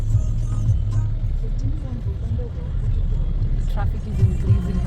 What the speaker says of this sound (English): Traffic is increasing now.